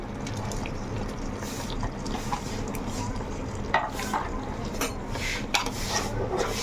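Onion, green chili and tomato are stirred in a pot, producing a steady wet sizzle with frequent scraping strokes and occasional louder clinks of the spoon.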